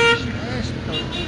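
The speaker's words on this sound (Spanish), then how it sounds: "Tocan bocina, pipi, pipi, todo es pipi." Car horns toot in a busy Bolivian city street, with a clear burst of horn tones at the start and then traffic noise under steady nearby talk.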